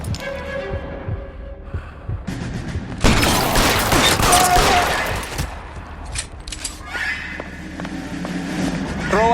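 A shootout in L.A. Noire: scattered pistol shots, then a dense burst of gunfire, then more sporadic shots. Voices are heard at the start and end.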